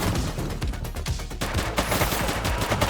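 Dense, sustained gunfire from a police shootout in The Precinct, rapid overlapping shots and bursts filling the whole stretch at steady loudness with no talking.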